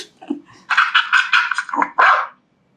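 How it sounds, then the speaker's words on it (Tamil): A dog lets out a quick burst of five or six sharp barks close by, with a brief yip and low grumble before them and silence after. "டாக்."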